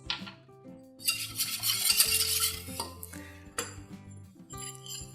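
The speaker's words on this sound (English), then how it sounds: "you're going to want to keep stirring this until it comes to a boil and thickens a little bit" Spoon stirring a cheese soufflé base of milk, salt and mustard in a pan, with steady clinks and scrapes of metal on the pan rising and falling over about five seconds.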